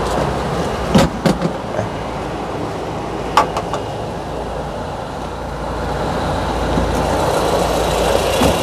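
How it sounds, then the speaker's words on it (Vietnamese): A Suzuki Carry blind van engine idles steadily with a low, even rumble, joined by a few brief clicks and knocks near the start. "quý anh chị có thể nghe được cái tiếng nổ của con động cơ Suzuki nè"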